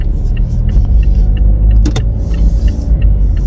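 Busy Monday road traffic after dark, with many cars passing in a continuous loud, close rumble of engines and tyres. Brief higher rattles and clicks rise above it, and no one speaks.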